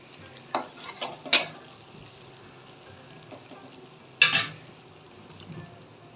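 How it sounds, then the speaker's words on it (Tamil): Ghee Mysore pak mixture stirred in a pan for a Diwali sweet, a few scraping utensil strokes against the pan in short bursts, two clustered near the start and one later, over a quiet background. "கீ விட்டு விட்டு கலந்து விட்டுட்டே இருக்கணும். கைவிடாமல் கலந்து விடுங்க."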